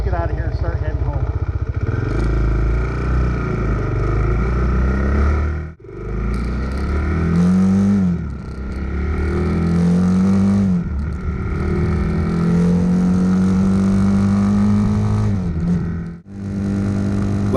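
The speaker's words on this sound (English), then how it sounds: "Let's see how this bike pulls both of us up this incline. Not bad for a 229cc Chinese motor." Two-up ride on an RPS Hawk DLX 229cc Chinese dual-sport motorcycle climbing an incline on a cold day, engine droning steadily with rising pulls and brief gaps from gear shifts, with someone talking over it.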